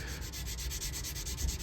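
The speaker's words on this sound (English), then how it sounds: "I'm letting the sanding stick do its job, letting the grit do its job" A sanding stick rubbing filler along a seam on a model kit, steady rapid back-and-forth strokes with a soft regular rhythm, close and quiet, no voices.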